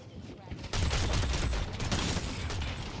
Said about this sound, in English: My gun feels like it's firing pretty fast, honestly.